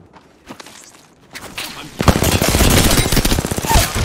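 Rapid smart bullet gunfire in the Apex Legends video game starts loud at about two seconds and continues as a dense, sustained burst, preceded by quieter scattered game noises.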